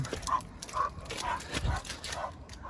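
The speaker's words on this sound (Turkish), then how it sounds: "Karşıdan köpekler geliyor." Dogs in a park give several short, distant barks and yips in an uneven sequence over faint background noise.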